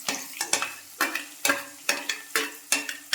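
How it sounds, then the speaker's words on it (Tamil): Garlic, onion and green chili sautéing in a pan for tomato thokku, with a soft close sizzle broken by regular spatula scrapes and taps against the pan, roughly two per second, no voices. "நல்லா வதக்கிக்கணும்"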